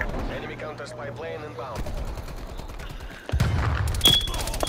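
Gunfire in Call of Duty: Black Ops Cold War, with rapid shots crackling under casual voices chatting, then a louder burst of fire near the end.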